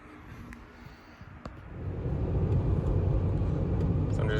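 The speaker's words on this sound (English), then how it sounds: "So I'm just driving this car home after buying it." A used car with 129,000 miles and a steering fault is driven home on the road, with a steady low engine and tyre rumble that swells louder partway through and then holds constant.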